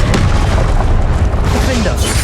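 Confringo and Incendio spell blasts in the video game Hogwarts Legacy, a loud booming impact burst followed by a crackling, roaring tail, with a voice calling out over it.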